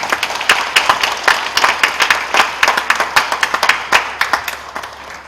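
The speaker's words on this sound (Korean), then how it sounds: "퇴장하는 동안 우리 한번 박수로 다시 한번 격려하겠습니다" Congregation at a Korean Presbyterian Day memorial service claps as a university choir leaves the stage, a sparse, distinct run of individual handclaps close by, loud and rhythmic, tapering slightly toward the end.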